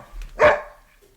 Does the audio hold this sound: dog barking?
yes